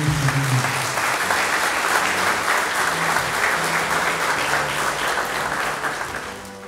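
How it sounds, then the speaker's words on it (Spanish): A packed hall at an architecture and urbanism faculty graduation ceremony applauds sixty graduating students, a thick, sustained roar of clapping that holds steady and fades slightly at the end, with faint voices beneath. "pido un voto de aplauso para esos 60 jóvenes que se están graduando en este momento"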